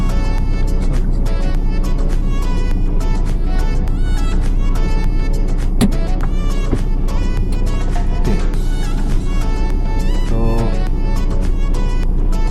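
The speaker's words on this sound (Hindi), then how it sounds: "इंजन स्टार्ट किया जाए, फर्स्ट गियर डालें, हैंड ब्रेक रिलीज" A car engine runs steadily throughout during a driving lesson, a constant loud low drone with no clear revving, alone with no talk.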